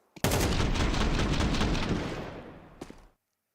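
Counter-Strike esports match gunfire: a dense, sustained volley of rapid shots roars for nearly three seconds, then trails off into a couple of final bursts and silence.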